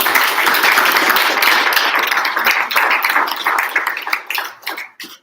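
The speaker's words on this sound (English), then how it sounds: "Please give Anna and Lita another round of applause" Audience applause at a blockchain technology workshop, a crowd clapping loudly and steadily, then thinning out and fading to a few scattered claps at the end.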